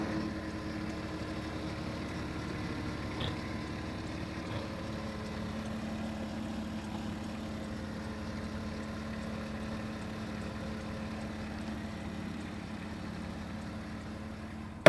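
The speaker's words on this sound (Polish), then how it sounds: "silnik cichutki, pracuje równo na wolnych obrotach" A Porsche Cayenne's engine idles quietly and evenly at low revs, a steady, smooth low hum holding constant throughout with no revving.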